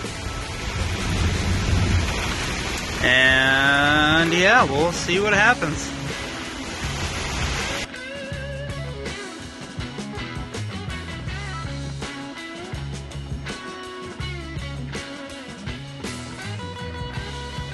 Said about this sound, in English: Now, lightning and thunder are going crazy.